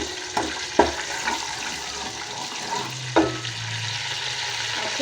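Curry leaves dropped into a cup of already-hot oil for kadhi pakora, giving a couple of sharp spluttering crackles over a steady frying hiss, close and fairly loud, with no talk.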